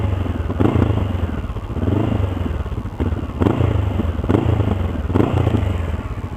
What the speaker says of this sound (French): Et voilà le son de la moto.